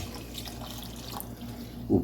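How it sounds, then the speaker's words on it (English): Continuous running, splashing water as a cup of water is poured into thick pumpkin soup, a steady close wash of liquid sound with no talk. "We'll pour the water in."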